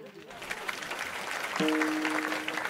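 An audience claps in a brief, fairly faint patter at a comedy kirtan performance, with a voice and a held tone over the clapping.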